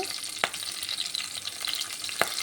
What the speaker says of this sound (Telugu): ఉల్లిపాయలు ఫ్రై అవుతున్నాయి కదా